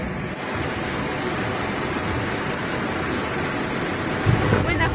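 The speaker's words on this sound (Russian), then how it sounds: "Здесь мы можем увидеть водопад, а там вот дальше само голубое озеро." A waterfall at a blue lake in the Caucasus mountains, a continuous broadband rushing roar that holds steady and fairly loud with no break, a brief bump near the end.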